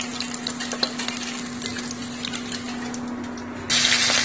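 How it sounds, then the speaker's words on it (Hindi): Cumin seeds and asafoetida hitting hot mustard oil in a kadai, a steady close sizzle with faint crackles over a low hum, swelling to a louder hiss near the end. "कढ़ाई में डाला है सरसों तेल, और यहाँ पे मैं डाल रही हूँ जीरा और हींग थोड़ा सा"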